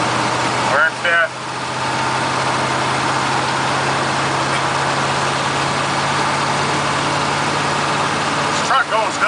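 A K30 pickup's 6.2 diesel engine hums steadily at cruising speed in fifth gear on an NV4500 transmission, with road and wind noise, a low drone throughout; a voice speaks briefly near the start and end.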